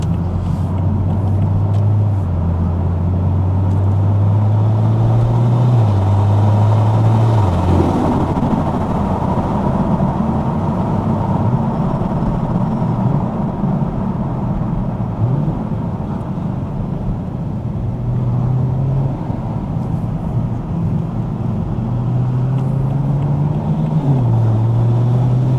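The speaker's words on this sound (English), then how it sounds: "showing how this exhaust system does sound with obviously a sports cat in place" Toyota GR Supra fitted with a titanium exhaust and sports cat, driving at night in the UK with an ARMASPEED intake: a steady, loud engine drone runs throughout, its pitch rising and falling with revs and gear changes.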